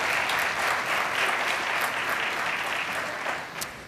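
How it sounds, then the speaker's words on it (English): Audience applause at the Esri European User Conference in Madrid, a loud dense wash of clapping from a large crowd that holds steady, then begins to fade at the end. "Let's hear you. Applause, please."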